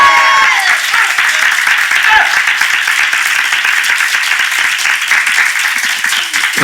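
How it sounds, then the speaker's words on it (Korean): Congregation applauding during a Sunday morning church service, a steady wash of many hands clapping that fills the space throughout, with a voice faintly present beneath it. "우리 박수로 영광 돌리겠습니다"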